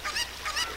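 A cucco chicken from the video game Zelda Ocarina of Time letting out two shrill, squawking honks in quick succession, loud and alone with no talk.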